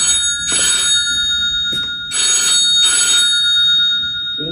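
An electronic telephone rings in three loud, bright trilling bursts in a home kitchen while chicken is being prepared, with short gaps between rings and no talk.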